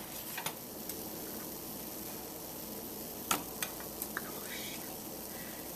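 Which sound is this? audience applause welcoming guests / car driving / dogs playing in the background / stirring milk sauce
stirring milk sauce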